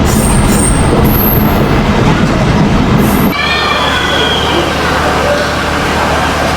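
A passenger train leaving Rajshahi station rolls loudly past a rail gate, a heavy continuous rumble of wheels and carriages that shifts to a smoother, steadier roar partway through.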